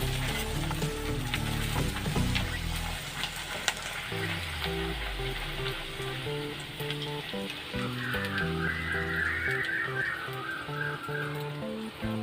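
Semolina puris (luchi) deep-frying in hot oil, a steady close crackling sizzle that continues without pause, with a faint rising tone near the end.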